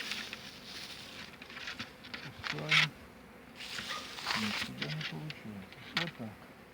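A single honeybee of the Ukrainian steppe breed flies close by, its buzz coming and going in short bursts, mixed with faint rustling and brief outdoor noises.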